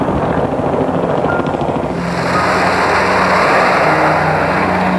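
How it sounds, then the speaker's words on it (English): A loud, steady roar of special operations helicopters flying low over terrain, with a throbbing rotor drone, close and continuous, swelling slightly partway through. "their special ops choppers hug the terrain, barely 100 feet off the ground"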